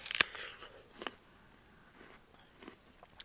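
Crisp bites into a red-fleshed apple in an orchard, a sharp crunch at the start followed by several fainter crunching chews, close and quiet with no talking.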